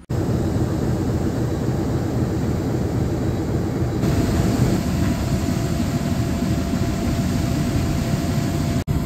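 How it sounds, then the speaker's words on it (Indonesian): A KRL commuter train rumbles past at Gambir station platform in Jakarta, a steady, loud, broadband roar of wheels and motors that fills the whole stretch without pause, with no voices. "Ini malah disusul KRL terlebih dahulu ya."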